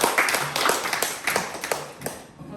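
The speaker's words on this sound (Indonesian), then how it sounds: "Tepuk tangan dulu untuk kita semua." A classroom group claps hands together at the end of an Indonesian-language lesson, a steady patter of many hands that fades toward the end.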